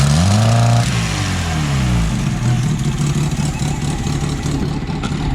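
A car engine fitted with a Weber carburettor that is being repaired revs loudly and close by. A rising whine at the start settles into a rough, sustained roar that fills the whole clip.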